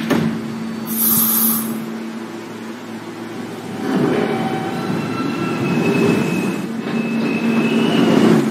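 A Manhattan-bound F Express subway train runs through a station, its loud rumble and rail noise swelling and holding, with tonal whines and brief squeals from the wheels.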